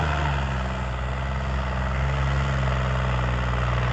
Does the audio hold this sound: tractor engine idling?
yes